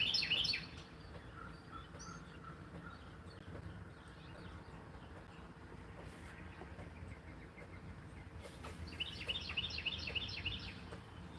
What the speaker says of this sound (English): We've got birdsong and we got coffee.